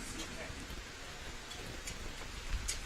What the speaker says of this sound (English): That rain is getting a little bit harder right now